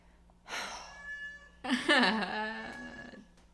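A house cat meows twice nearby: a shorter call first, then a longer, louder, drawn-out wail, with quiet room tone between them.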